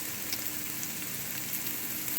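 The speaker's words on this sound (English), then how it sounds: "I'm going to go ahead and add my garlic and ginger paste" Garlic and ginger paste sizzles steadily in a pan with frying onions, a close, even crackle that holds the whole time with no talking.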